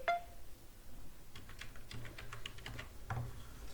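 Fingers tap out a mobile number on a computer keyboard while filling in a scholarship registration form online, a quick run of light, close key clicks after a brief tone at the start, quiet, with no talking.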